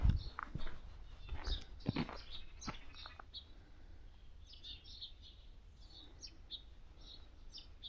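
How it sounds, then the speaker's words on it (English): Magpie calling by the sea in the morning, a series of short, faint chirping calls repeating irregularly at a distance over soft outdoor background noise, with a few louder knocks and rustles early on. "It's a magpie."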